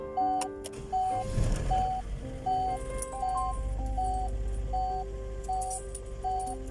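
A car's ignition turns over with a brief rattling crank while a repeating dashboard alert chime beeps at a steady, even rhythm inside the cabin, continuing over a low engine hum.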